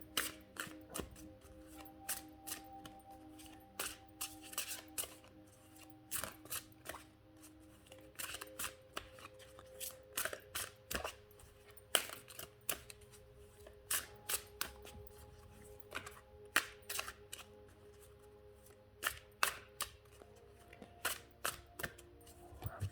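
Oracle cards are shuffled by hand in a quiet room, a close series of crisp, irregular slapping and riffling flicks that carries on steadily throughout.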